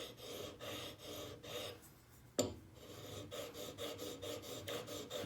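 Steel card scraper edge drawn back and forth across a flat diamond sharpening stone, a steady rhythmic rasping stroke after stroke, close but quiet, with a brief clack partway through and no talking.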